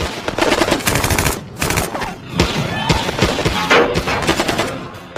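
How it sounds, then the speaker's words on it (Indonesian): Dense gunfire in a film shootout between police and a gang, with rapid machine-gun bursts and scattered single shots crackling loudly and almost continuously, while a voice speaks faintly underneath. "Kemudian terjadilah baku tembak dengan Vero dan anak buahnya."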